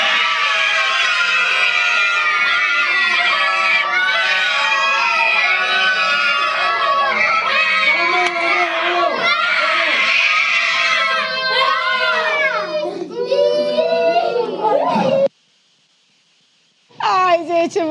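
A group of people in a theatre exercise scream together on cue, a loud, sustained mass of shrieks and yells that cuts off abruptly, followed by a brief silence and a short burst of voices.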